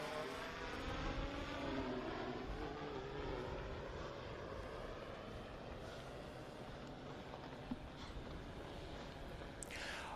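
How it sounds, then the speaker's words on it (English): Camera drones buzz over a mountain glacier trail race in the Alps, a sustained rotor whine with shifting tones that swells and fades as they pass, fairly distant and heard alone. "And we can hear the drones now."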